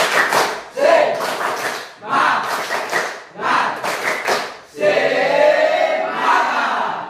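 A group of students performs a rhythmic spirit-clapping chant, bursts of patterned clapping and thumps in separate phrases, with voices chanting along, ending in a longer stretch of mixed clapping and shouting.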